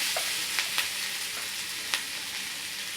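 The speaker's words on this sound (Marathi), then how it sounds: "कांदा छान गुलाबी परतला आहे त्यात आपण आता मसाले घालून देऊयात" Onions frying in a pan as spices are added, a steady close sizzle with a few soft clicks and taps from a spoon.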